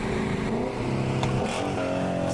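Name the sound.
car with IS38 turbo accelerating during a run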